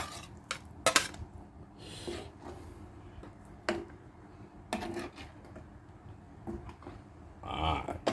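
Nam ya curry sauce stirred in a pot, with quiet scraping and intermittent sharp clanks of a utensil against the pot, irregular knocks close by, and a few soft voices nearby.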